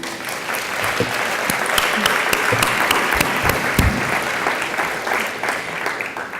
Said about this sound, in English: I think we should give them all a round of applause.